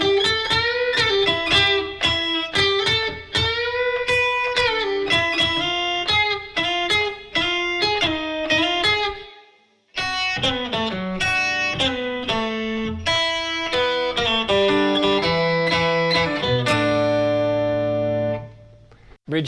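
Guitar playing a song close to full tempo, a busy rhythmic run of chords and riffs with one short pause midway and a ringing final chord, loud and up close.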